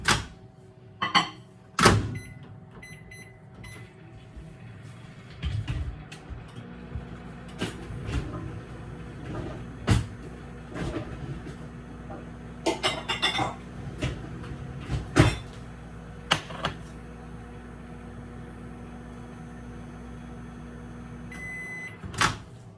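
A microwave oven runs for about fifteen seconds melting ingredients for apple pie bites, a steady low hum broken by several sharp clicks and door or cupboard knocks, with beeps near the end.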